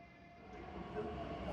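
Low rumbling of a passenger train at a Berlin station, a steady mechanical hum and rolling drone that builds slightly, no talking.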